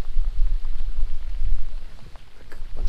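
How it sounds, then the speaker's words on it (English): Steady rain coming down outdoors at a Florida fishing spot, a dense continuous hiss of drops with no pauses, fairly loud and close throughout. "that rain is not letting up"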